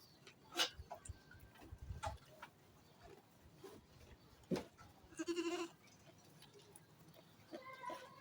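Young goat kids about two months old bleat in short scattered calls, several sharp cries spread across a quiet farm setting with faint ticking and rustling between them.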